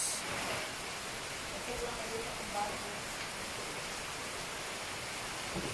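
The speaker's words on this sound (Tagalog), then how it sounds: "Ayan, umuulan po guys." Rain falls in rural, mountainous countryside as a soft, steady hiss that carries on throughout at low volume, with faint droplet patter underneath.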